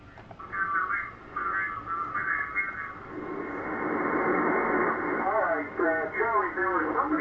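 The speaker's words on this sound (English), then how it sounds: "there's a lot of ham stations on the 80 meter band tonight that I could see here" Shortwave ham radio reception on the 80 meter band at night, giving a steady hiss and static with garbled, warbling sideband voices and heterodyne tones drifting in and out, moderately loud throughout.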